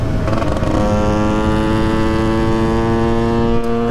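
A KTM 125 EXC two-stroke dirt bike ridden solo runs at a steady, buzzing engine note that rises slightly early on, then holds loud and close with no talking.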